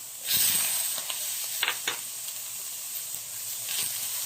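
Shrimp, squid and corn kernels sizzle steadily in a hot pan, a continuous bright hiss with a few sharper crackling bursts, close and fairly loud, with no talking.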